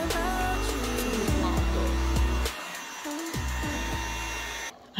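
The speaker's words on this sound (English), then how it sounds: "So I'm gonna try to like vacuum those green spongy thingies." A loud, steady motor whine from a small vacuum cleaner sucking up green spongy bits runs continuously, dropping out briefly midway and near the end, with pitch shifting as it works.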